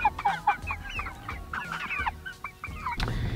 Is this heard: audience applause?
no